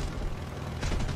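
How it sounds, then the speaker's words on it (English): Aircraft machine guns firing in War Thunder, heard from inside the cockpit: a dense, rapid rattle of shots over a low engine rumble, loud and close, with a sharper burst toward the end of the brief stretch. "Machine guns"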